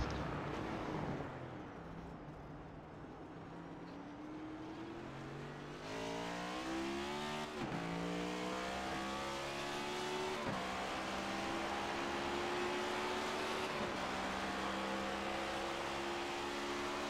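Several race cars battle on the Circuit of the Americas track during a timed Cup Series race, engines droning and rising in pitch through gear changes, loud and continuous with overlapping whines as cars pass close.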